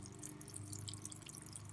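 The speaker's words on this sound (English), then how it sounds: "You can see the water flowing down, hitting that drip line, and dripping right off the end." Water runs off a hammock tarp's drip line outdoors, falling as quick, bright, irregular drips and patters close by over a low steady background.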